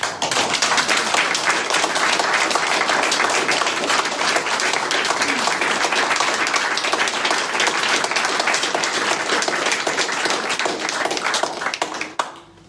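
An audience at a political rally against imperialism claps loudly and continuously, a thick, even roar of many hands lasting over twelve seconds before tapering off at the very end.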